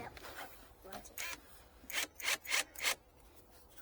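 Screws are driven into gate hinges in a string of short, scraping bursts. The bursts grow louder and closer together toward the end, against a quiet background.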